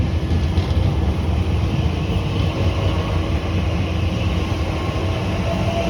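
A Class 345 electric train pulls out of Acton Mainline on the Great Western Main Line bound for Heathrow Terminal 4, a loud, close, continuous low rumble and rolling roar that holds steady throughout with no voices.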